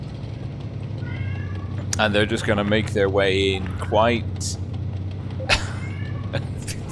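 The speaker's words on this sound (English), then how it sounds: "Sorry, the cats." Household cats meow several times in a short run of drawn-out, rising and falling cries. They sound moderately close and carry over a low steady hum while someone talks in a tank-game livestream commentary.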